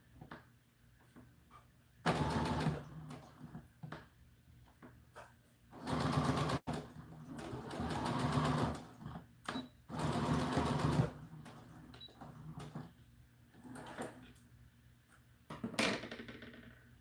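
Sewing machine stitching a doll dress: several bursts of rapid mechanical whirring, each lasting a second or two, broken by pauses with soft handling clicks and fabric shuffles, close up and moderately loud, with no talking.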